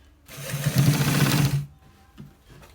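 Close up, a sewing machine stitches a back neckline in one rapid burst of about a second and a half, a loud rattling whir that stops abruptly, followed by faint handling noise.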